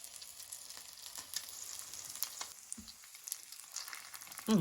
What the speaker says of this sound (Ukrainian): для початку смажимо дві пробні оладки